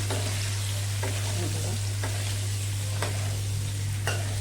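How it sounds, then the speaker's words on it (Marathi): Diced red pumpkin pieces for a sabji being stirred in a hot pan, with steady frying sizzle under a low hum and scraping stirs landing about once a second. "आणि भाजी मस्तपैकी हलवून घेऊया भाजी मस्त हलवून घेऊया आपण"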